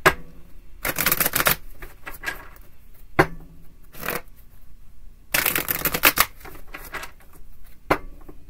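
Tarot cards are shuffled in quick riffling bursts, a few longer runs and several short flicks, separated by near-silent pauses, close and fairly soft.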